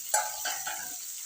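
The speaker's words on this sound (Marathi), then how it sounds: "आता याला छान परतून घेऊ." Onion slices and capsicum for chilli paneer sautéed in a pan: faint soft sizzling with a few light scrapes of stirring, quiet and with no voices.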